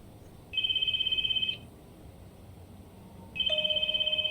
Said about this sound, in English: Oh, I hear the ringing.